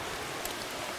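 Rain falls steadily onto a trout stream, a dense, even hiss of drops on the water, close and unbroken over a short moment with no voices.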